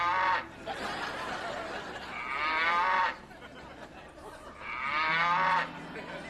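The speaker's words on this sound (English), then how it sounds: "Is that a cow?" A cow moos twice nearby, two long drawn-out lowing calls separated by a pause, with quieter background sound and a hint of laughter between them.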